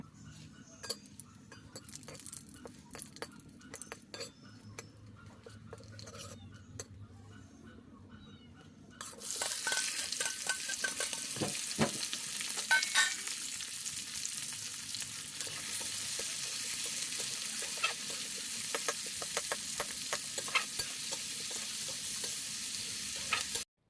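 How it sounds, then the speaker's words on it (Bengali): Oil sizzles steadily in a pan over a wood-fired clay stove as onions fry, with occasional clinks and stirring scrapes; quieter kitchen sounds at first, then a loud continuous hiss. "পেঁয়াজটাকে এখন আমি ভালো করে ভেজে নেব"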